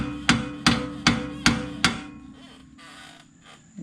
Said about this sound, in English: I'm gonna hit it once with a hammer.